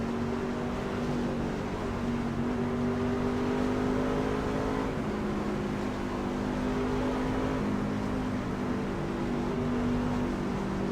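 A race car engine in the iRacing simulator holds a steady, droning full-throttle roar with slight pitch shifts, continuous and even throughout with no talk over it.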